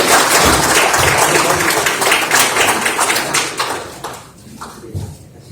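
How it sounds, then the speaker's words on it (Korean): Audience at a science hall founding anniversary forum breaks into dense, loud applause that holds steady for several seconds and then thins out and fades toward the end. "큰 박수 한번 주시기 바랍니다"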